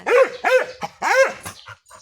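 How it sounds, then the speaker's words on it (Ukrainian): A farmyard dog in a Ukrainian village barks three times in quick succession, loud and close, then gives a couple of softer yips and whimpers at the end. "Чарлік, собака ти наш"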